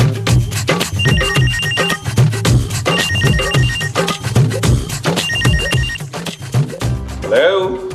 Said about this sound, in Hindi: अगर हम यहाँ बैठे तो हमें फोन उठाना पड़ेगा